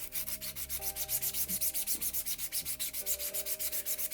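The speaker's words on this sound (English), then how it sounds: "This one just needs a bit of a rub down." Sandpaper rubs rhythmically over a PLA 3D-printed lamppost, a steady run of close, even back-and-forth scratching strokes with no voices.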